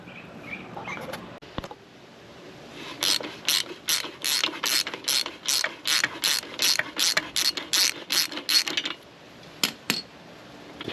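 A ratchet wrench clicks in quick, regular bursts, close and clear, as it works loose the bolt that holds a brake, with a few faint handling noises before it starts.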